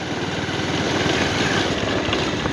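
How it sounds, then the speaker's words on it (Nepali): Motorcycle engine running steadily outdoors on a rough Rasuwa trail after the bike tipped over, a continuous mid-loud rumble with no talk. "साथीले बाइक लडायो"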